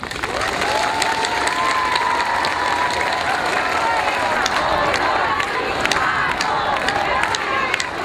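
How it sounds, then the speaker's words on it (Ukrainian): Townspeople welcoming the crew of the minesweeper Cherkasy clap and cheer in a sustained, dense ovation, loud and close, with shouts and voices rising through the steady applause. "Давайте ще раз оплесками привітаємо їх."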